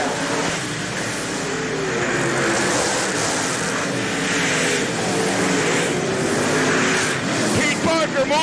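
World of Outlaws late model race cars roaring around the Hales Corners track at a feature, one car's engine running sour, a dense continuous engine drone with a commentator talking over it.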